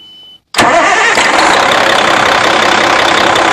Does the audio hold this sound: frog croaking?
no